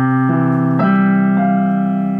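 Piano plays slow sustained chords from a La La Land song, three chord changes ringing out cleanly and loud, with no voices.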